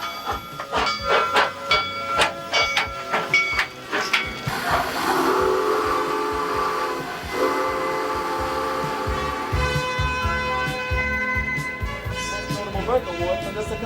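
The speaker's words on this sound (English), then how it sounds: "one of the Transvelt Railway's old-fashioned steam engine trains." An old-fashioned steam train on a Busch Gardens theme park railway chugs along with a loud, sustained whistle blast mid-way, hissing steam and rattling cars, with a voice talking over parts of it.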